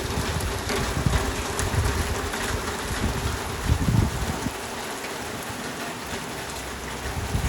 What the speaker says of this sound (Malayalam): നല്ല മഴയാണ് ഗൈസ്, നിൽക്കാതെ പെയ്യുന്ന മഴ.